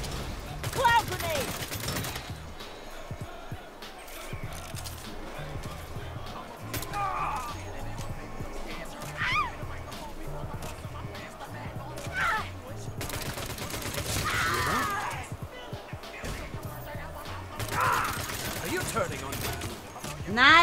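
Gunfire from the video game Saints Row comes in repeated rapid bursts and volleys over about twenty seconds, with game noise around it. German-speaking players talk over much of the shooting.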